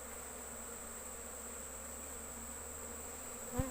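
Bees hum in a faint, steady drone around an opened hive during a honey harvest, with a brief soft thump near the end.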